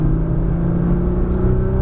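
A race car on a Las Vegas track day accelerates out of a tight right-hand corner, its engine a loud, close, steady drone for the whole short burst, with no voices.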